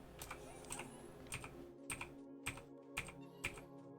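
Loud clacking keystrokes on a noisy programmable computer keyboard, about seven sharp, evenly spaced presses over steady background hum, close to the microphone.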